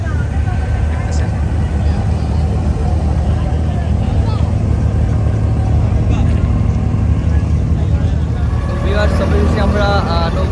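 A river crossing boat's motor drones loud and steady throughout, rising slightly toward the end as the boat gets under way, with people talking faintly aboard.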